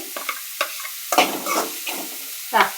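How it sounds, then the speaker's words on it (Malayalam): Ginger and green chili stirred in a hot frying pan while making upma, a spoon scraping and tossing in short irregular bursts over a light sizzle, close and alone with no talk. "ഇത് നല്ലവണ്ണം ഒന്ന് ഇളക്കി കൊടുക്കാം"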